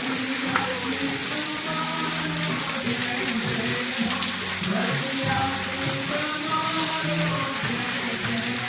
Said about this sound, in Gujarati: એ છે ખાલી 108 ગાયના મુખમાંથી પાણી નીકળે એ વાળું